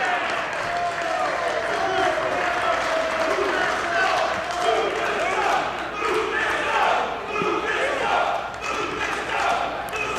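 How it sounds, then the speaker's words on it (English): A wrestling arena crowd at a women's championship match roars and applauds continuously, a loud, dense wall of cheering and shouting with no breaks. "This crowd coming alive for LuFisto with the WSU Championship on the line."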